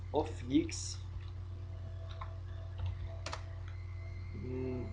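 Keystrokes on a computer keyboard, a scattering of faint, sparse clicks close by, accompanied by brief bits of voice and a low steady background hum.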